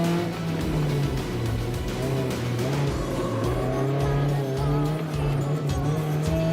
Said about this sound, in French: on entend les pneus crisser tout autour de la piste